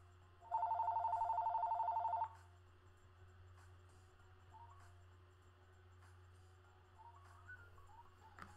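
A phone rings during a Marvel Contest of Champions live stream: one burst of rapid electronic trilling lasts under two seconds, then quiet game sounds and faint blips follow.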